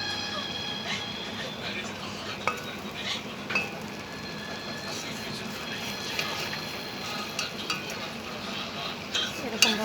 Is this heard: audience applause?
no